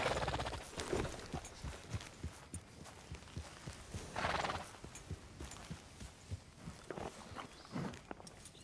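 A horse whinnies a few times amid steady hoof clip-clops in the video game Red Dead Redemption 2, with rustling movement in the background and no talking.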